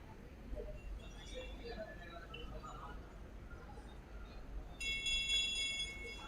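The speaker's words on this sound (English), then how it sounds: "that bell sound is the indication for Neha Saini of Uttarakhand to go for the last lap" A last-lap bell rings at the 62nd National Open Athletics Championships in 2023, a bright, sustained ringing near the end that stands out over faint stadium murmur and a distant voice.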